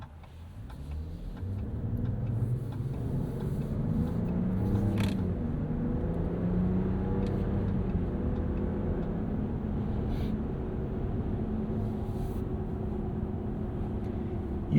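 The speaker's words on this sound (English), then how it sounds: "You do get quite a lot of road noise with these Goodyear Wranglers." Steady tire roar from Goodyear Wrangler tires on a 2025 Ram 1500 Rebel pickup with a turbo inline-six, a continuous low hum and rumble from inside the cab while cruising, with no talk.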